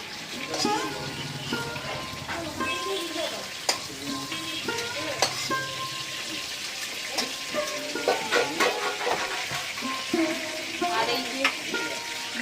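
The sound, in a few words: pointed gourd and potato frying in a pan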